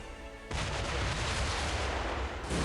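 Cannon fire from a general's attack in the video game Final Fantasy Mobius: a sudden loud blast that rolls into a sustained roaring, rumbling barrage for about two seconds.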